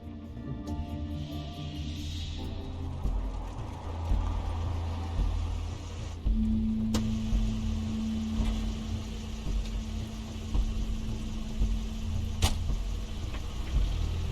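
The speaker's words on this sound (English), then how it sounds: "That's Crane's car." Crane's car in The Wolf Among Us, its engine a steady low rumble and hum running the whole time beneath game music, with a sustained tone entering partway through.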